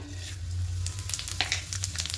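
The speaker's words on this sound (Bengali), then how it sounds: "এবার এই কড়াইয়ে আরও সামান্য কিছুটা সর্ষের তেল দিয়েছি এবার ফোড়নে দেব গোটা জিরে" Whole cumin seeds sizzle in hot mustard oil in a wok, giving a soft continuous frying hiss dotted with quick crackles and pops, close and moderately quiet, with no speech.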